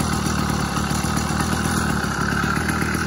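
A Seeutek 80cc engine kit fitted to a Schwinn Stingray chopper bike idles steadily, a close, even, rapid putter with light mechanical clatter and no talk.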